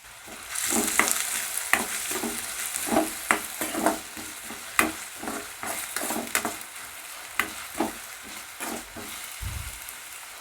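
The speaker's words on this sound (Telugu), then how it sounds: "ఆయిల్ చాప్ చేసుకున్న ఆనియన్స్" Chopped onions frying in hot oil, a continuous close sizzle with rhythmic stirring scrapes and clinks repeating about every second throughout, no speech.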